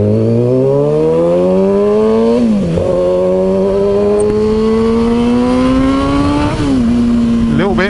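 Kawasaki ZX6R motorcycle accelerating hard with traction control off, engine pitch climbing steadily through the gears with brief drops at each shift, loud and close with wind rush.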